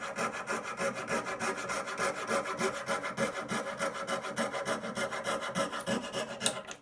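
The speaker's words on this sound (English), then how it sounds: "you can cut your relief cuts with a coping saw as well" Hand saw rasping steadily through a wooden guitar headstock, a fast, even back-and-forth stroke rhythm that stays loud and close throughout, with no talking.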